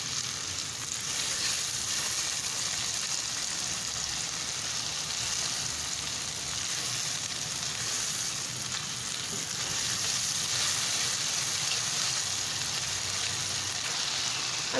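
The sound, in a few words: mash dal frying in a pan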